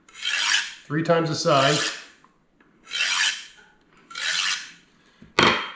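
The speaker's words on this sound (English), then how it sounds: "if I carefully run it on this sharpening steel" Serrated bread knife honed on a sharpening steel, four or five separate raspy scraping strokes close up with short pauses between, while a person speaks briefly over one of them.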